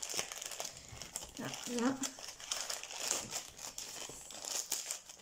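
Plastic parcel packaging crinkles and rustles up close as a new package is unwrapped, a steady crackling that runs the whole time while someone speaks briefly.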